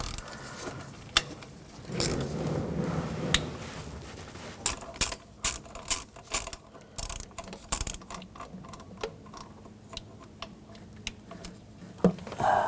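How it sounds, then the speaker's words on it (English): A ratchet with a 12mm socket removes the throttle body bolts on a 1995–2004 Toyota Tacoma, giving close, quick clicking runs in uneven bursts against a low background. "You want to use the same 12mm socket. Take those bolts out."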